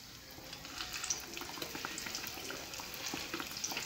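Sonho doughnut dough frying in oil, a dense, continuous crackle and bubbling hiss heard up close, fairly quiet and without speech.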